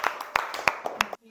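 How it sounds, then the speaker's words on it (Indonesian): A short burst of clapping in a secondary school classroom for a student group coming forward, several sharp claps in a loose rhythm that stop abruptly. "Kasih tepuk tangan yang sudah berani maju."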